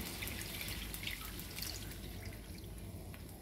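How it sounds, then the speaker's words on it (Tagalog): Water pours steadily into a cooking pan of fish adobo with a continuous splashing trickle, close by, with no voices. "Lagay din tayo ng tubig."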